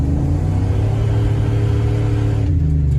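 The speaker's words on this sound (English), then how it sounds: "Well, that just spun the tires." A Ram pickup truck rolling at about 15 mph accelerates hard, its engine rumbling loud and close with a steady droning roar that eases slightly near the end as the tires break loose.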